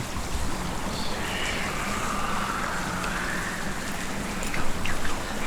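Rushing waterfall in the video game Hellblade, a steady broadband roar that holds evenly throughout with no break, heard alone and close.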